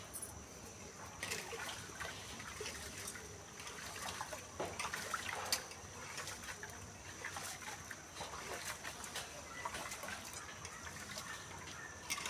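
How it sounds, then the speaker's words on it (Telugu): Rice being rinsed in water by hand, with steady trickling and sloshing that runs the whole time, close up and fairly quiet, mixed with scattered splashes and faint background noise. "బియ్యం కడుగుతాను"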